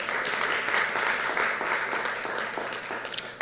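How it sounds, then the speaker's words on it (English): An audience at a pre-budget discussion panel gives a steady round of applause, dense clapping that holds for several seconds and then tapers off at the end. "let's give our panel a round of applause again"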